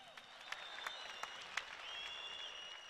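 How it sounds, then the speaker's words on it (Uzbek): Crowd at a boxing bout in Humo Arena applauding both fighters after the fight, a faint, steady patter of clapping with a few sharper claps standing out. "har ikkala bokschini olqishlab qo'yamiz ajoyib jang uchun"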